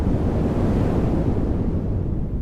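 Ocean surf rolls onto Velas beach on the Konkan coast before dawn, a steady loud broadband roar with wind buffeting the microphone. The noise eases slightly toward the end, and no voices are heard.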